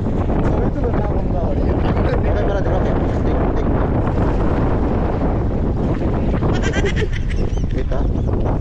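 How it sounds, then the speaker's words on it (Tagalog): Strong wind buffets the microphone at a seaside fishing area, a loud, constant roaring rumble throughout, with faint talk partly buried under it. "Ang lakas ng hangin mga kasama, pero nandito pa rin tayo sa fishing area natin."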